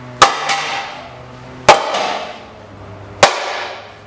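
Three loud metallic hammer blows, spaced about a second and a half apart, strike a vintage semi-truck exhaust stack holder clamped on a vise, each hit ringing out briefly before decaying.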